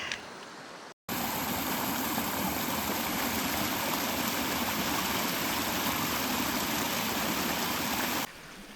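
A mountain stream rushes steadily in the Dolina Lejowa valley of the Tatras, a loud, unbroken broadband roar that holds for about seven seconds after a brief cut, close by with no voices.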